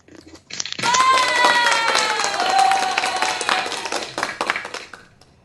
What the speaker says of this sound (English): Let me give you some applause.